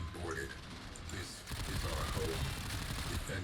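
Enemy gunfire rattles against a ship in the Warframe Railjack space battle, dense and continuous, growing louder and heavier partway through, with game noise throughout.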